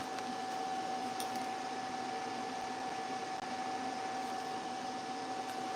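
TIG welding a rear axle at 120 amps, a steady buzzing electrical hum with a constant tone and even loudness, uninterrupted throughout.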